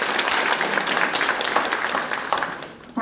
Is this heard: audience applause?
yes